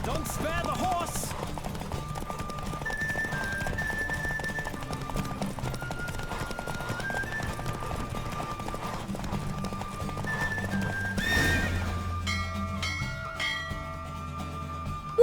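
A horse gallops in The Witcher 3 with a fast, continuous clip-clop close by, then neighs loudly near the end, under music and brief talk.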